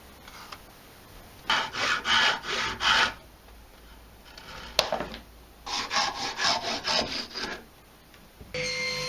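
A hand saw cuts tapered sycamore blocks in two close bursts of rhythmic back-and-forth strokes, with a short quiet pause between them and a faint tap in the middle.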